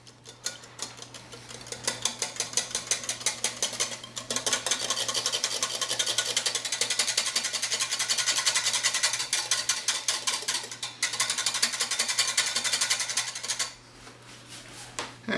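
Avocado coconut popsicle mixture being stirred, a steady rapid scraping and rasping of a utensil against the bowl, close and continuous with brief pauses, no talking.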